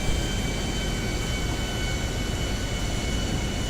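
A steady, dense roar of an airplane's engines in a video game during landing approach at a military base, holding at constant loudness with no other sounds.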